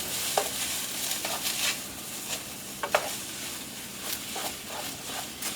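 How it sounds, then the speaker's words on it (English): Sauce being stirred in a pan for homemade ramen, with a soft background sizzle and a few light scraping taps of the utensil against the pan, fairly quiet and unhurried. "Okay, I'm going to stir this sauce all around."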